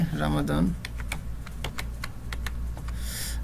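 Rapid, irregular keystrokes clatter on a computer keyboard as a search is typed, a short burst of voice coming just before the crisp clicks take over.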